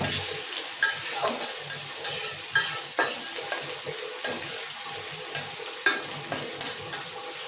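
Onions and green chili fry in oil in a wok, a continuous sizzle broken by regular scraping stirs of a spatula against the pan, close and fairly loud.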